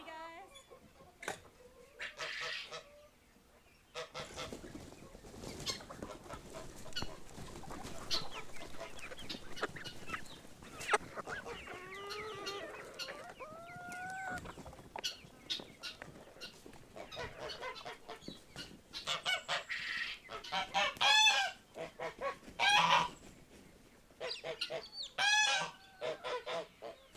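Farm chickens and geese on a 54-acre farm cluck, honk and cackle in scattered bursts, some close and loud, others fainter in the background, with occasional speech mixed in.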